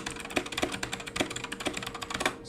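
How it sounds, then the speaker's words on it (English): Loud, clacky mechanical keyboard with strong switches being typed on, a quick irregular run of sharp close clicks with a few heavier strokes, alone with no voices. "Sorry for my super clacky keys. But they're pretty strong switches, so they're just super loud at the moment."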